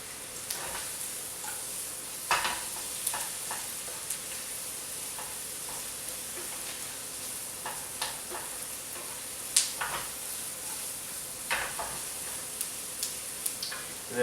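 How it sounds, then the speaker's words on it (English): Onions and mushrooms soften in butter with thyme in a pan, giving a quiet, steady sizzle with scattered light clicks and taps of a utensil throughout. "So all you're doing is soaking off the onions and mushrooms to start with in the butter"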